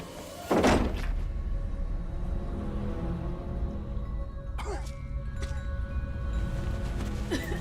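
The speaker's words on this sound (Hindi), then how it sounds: "आप दरवाजा खोल दीजिए।" A door opens in a long-closed room in a Hindi TV horror serial, with one loud wooden thunk and creak near the start, then a low rumbling room tone and two fainter knocks later on.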